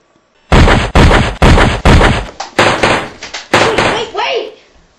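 Gunfire in a night-time combat scene: a rapid string of about eight loud, sharp shots at close range, each cracking then ringing out briefly, with a short gap midway before the volley tapers off.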